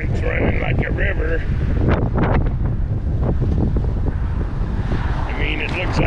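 Strong north wind over the Kemp Channel fishing bridge in the Florida Keys, loud buffeting gusts battering the microphone throughout, with a voice talking intermittently over the roar.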